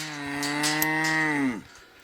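Cow mooing in a pond paddock, one long, loud, nearby low moo that holds steady, then drops off sharply at the end.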